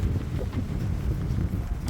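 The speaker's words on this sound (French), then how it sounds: "on est sur les crêtes, il fait un vent pas possible." Strong wind buffets a microphone on an exposed ridge along a pilgrimage trail, a loud, steady low roar with gusty rumbling throughout and no voices.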